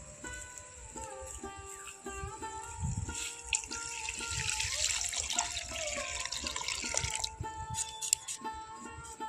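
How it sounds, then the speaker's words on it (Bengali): Water pours from a tap over freshly cut raw potato pieces in a kitchen, a soft splashing rush that swells in the middle and then tapers off, with faint clinks around it. "আলুগুলোকে কেটে নেওয়ার সঙ্গে সঙ্গেই আমি কিন্তু জল দিয়ে দিচ্ছি।"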